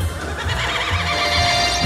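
A horse whinnies in a drawn-out, wavering neigh lasting nearly two seconds, fairly close and alone without talk.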